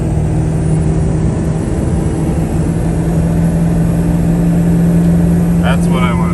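Loud, constant drone of a 2000 Ford F350 diesel truck engine fitted with a KC300x turbo, heard from inside the cab at steady pitch with a steady hum throughout.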